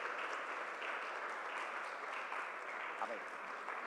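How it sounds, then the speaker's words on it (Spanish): Church congregation applauding, a dense, steady wash of clapping from many hands filling the room for the whole stretch, fairly soft and even with no pauses. "Más fuerte ese aplauso para el Espíritu Santo de Dios"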